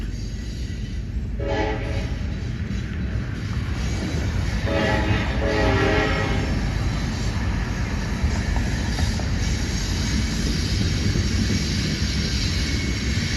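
A train blows its horn twice while passing through town, two sustained blasts a few seconds apart, heard from the street over heavy rumbling outdoor noise.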